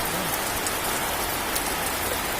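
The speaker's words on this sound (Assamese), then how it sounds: "বৰষুণ বৰষুণ পুৰা বৰষুণ" Heavy, steady rain pouring down close by, a dense continuous patter with no pauses.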